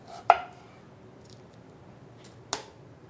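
A sharp kitchen knife cuts through an onion in just two crisp strokes, spaced about two seconds apart, each a quiet, close thunk with near silence between them.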